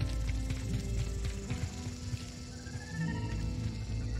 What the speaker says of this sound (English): Is that a horsey?